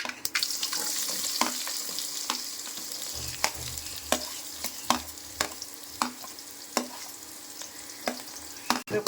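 Onions go into hot oil with already-popped mustard seeds for a fish curry. A continuous sizzle runs throughout, punctuated by sharp, regular clacks of a spoon stirring against the pan, close and distinct, with no talk.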